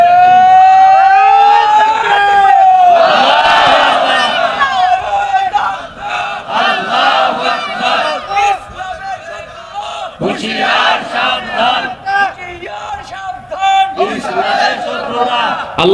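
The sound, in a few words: crowd chanting slogans at a sermon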